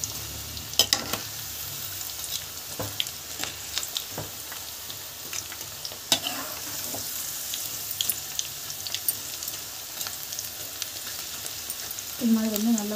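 Pakoda fries in boiling oil with a continuous close sizzle, sharp scattered pops and occasional stirring scrapes.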